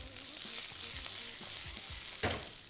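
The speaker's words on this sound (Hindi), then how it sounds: "कैप्सिकम को हल्का सा टॉस करके" Colourful capsicum, sliced ginger and green chili frying with nigella and fennel seeds in a pan as they are tossed, giving a quiet steady sizzle with faint crackles and a brief scrape near the end.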